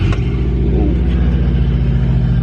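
A Subaru WRX with an EJ255/EJ257 engine and leaking fuel lines starts roughly with a brief burst at ignition, then settles into a loud, steady, low idle rumble close by.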